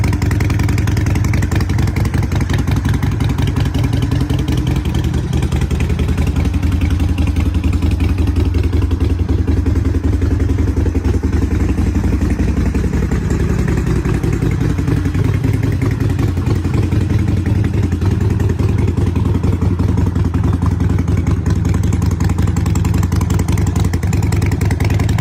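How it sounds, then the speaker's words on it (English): A 2009 Harley-Davidson Nightster engine runs steadily for a long stretch, with a deep loud mechanical rumble and clatter. The pitch rises and falls gently midway, as if lightly revved, and no voices are heard. "2009 Harley-Davidson Nightster."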